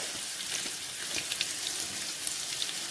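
Chopped ginger and garlic fry in a hot pan while a curry-leaf chicken dish is cooked, giving a steady, soft crackling sizzle with scattered small pops throughout.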